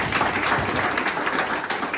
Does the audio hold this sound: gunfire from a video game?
no